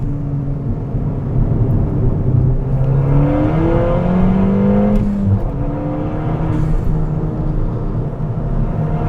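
A Ford Fiesta ST with its exhaust backbox deleted revs hard through rising and falling engine pitches, loud and close throughout, with a couple of sharp crackling pops on the overrun.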